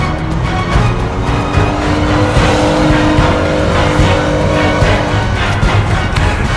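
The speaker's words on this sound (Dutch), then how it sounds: "Dit is het hart waar het om gaat bij de Ferrari uiteraard. 3200 cc V8, 270 pk's." A Ferrari 328 GTS with a 3200 cc V8 engine runs loud and steady throughout, its rough, continuous engine note close by with no talking.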